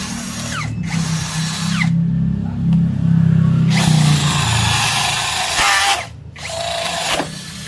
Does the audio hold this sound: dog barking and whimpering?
no